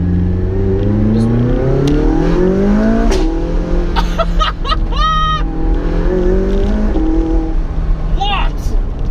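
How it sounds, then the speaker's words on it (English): A McLaren 675 LT's engine revs hard through the gears with the windows down, sharp exhaust pops crackling around the upshifts, loud and close from inside the cabin while a voice talks over it. "One of this thing's greatest party tricks is the way it pops on upshifts."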